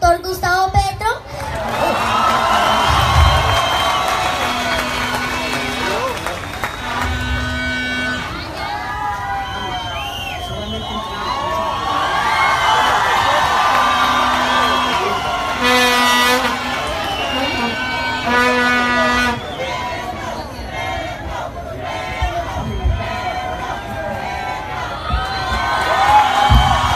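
A crowd cheers and shouts for Gustavo Petro, loud voices including children's rising and falling over nearly half a minute, with whoops and overlapping chatter but little distinct clapping.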